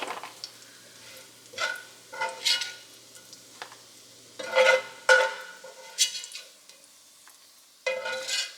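Frying bacon is lifted out of a hot pan, with a faint background sizzle broken by several separate scraping and clinking bursts of utensil against pan.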